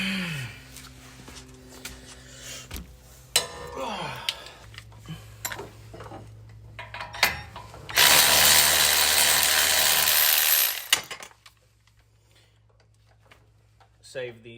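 A ratchet loosens the brake caliper bolt on a 5th Gen Toyota 4Runner during a Powerbrake big brake kit install, with repeated clicking pawl sounds and tool handling, a loud burst of steady noise midway, and nearby talk throughout.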